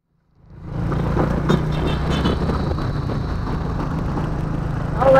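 Steady road traffic in the Philippines heard from a delivery rider's motorbike, a continuous broadband rumble of engines that fades in and holds at a moderate, even level, with a brief louder swell at the end.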